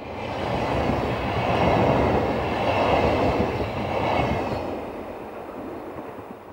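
A green electric passenger train, Swiss locomotive 11158 hauling EC108 from Milan to Basel, rumbles past close by, swelling to a loud clattering roar with rhythmic wheel noise, then fading as it moves away.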